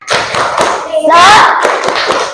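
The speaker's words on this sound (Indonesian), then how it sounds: "Kita tepuk semangat terlebih dahulu ya." Schoolchildren in a classroom doing the rhythmic tepuk semangat clapping chant: sharp, loud unison claps in a steady beat, with the children's voices chanting along in the middle.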